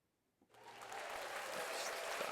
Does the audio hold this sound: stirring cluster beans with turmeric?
no